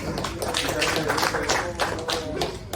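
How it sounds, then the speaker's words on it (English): A round of applause for a presenter in a student group presentation, scattered clapping taps of moderate loudness, fairly near and continuous throughout without clear talk. "give a round of applause for Jordi, please"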